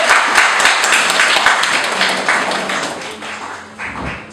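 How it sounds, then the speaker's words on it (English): A comedy club crowd at a roast show bursts into loud, dense applause that fills the room. It stays strong for several seconds before thinning slightly toward the end. "If you could start the applause on that side of the room."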